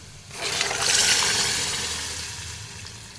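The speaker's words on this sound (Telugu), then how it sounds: "ఇలా మొత్తంగా ఫ్రై అయిన దాంట్లో కొద్దిగా పప్పు వేసేసుకుందాం." Dal tipped into a frying tempering for tomato pappu sets off a loud, close hissing rush that swells within the first second and then slowly fades.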